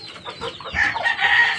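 A Talisay fighting rooster clucks and calls up close, a short loud run of raspy rising squawks.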